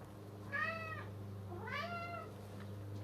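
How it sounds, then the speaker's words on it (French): A cat meows twice, two clear drawn-out calls about a second apart, moderately close over a low steady hum in a quiet room. "Désolée si vous l'entendez miauler, courir, marcher"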